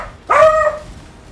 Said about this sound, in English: my dog has exploded the microphone for us all